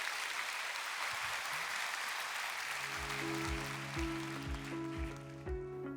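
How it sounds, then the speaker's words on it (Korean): Sustained audience applause in a lecture hall at a public natural-science lecture at Seoul National University, steady and dense throughout, with music entering partway and playing under the clapping. "큰 박수로 모시겠습니다."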